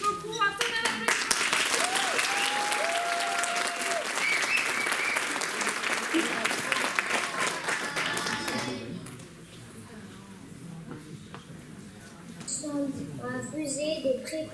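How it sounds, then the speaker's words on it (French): Audience applause at a stellar-themed cabaret show, a loud sustained burst of clapping that fades after several seconds, with a voice and scattered talk and taps as it dies down. "Un tonnerre d'applaudissements."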